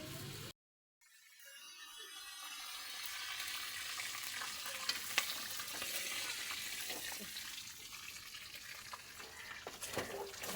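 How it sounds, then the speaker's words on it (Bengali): Fish frying in a pan over high heat, a steady sizzle that starts after a brief silent gap and carries on alone with small crackles. "দেখো এভাবে কেউ মাছ ভাজে"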